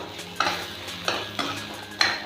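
Garlic frying in a pan, stirred in four distinct scraping strokes of a spoon against the metal over a faint sizzle, close and clear with no talk.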